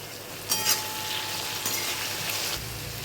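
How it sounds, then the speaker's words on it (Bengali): Potatoes, with onions added, frying in a kadai after bay leaves are tempered in the oil: a continuous close sizzle with brief clinks and stirring sounds, no voices. "কড়াইতে তেজপাতা ফোড়ন দিয়ে আলুটাকে প্রথমে ভেজে নিচ্ছি"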